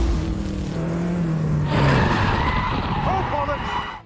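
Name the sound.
race car skidding and crashing into tyre barrier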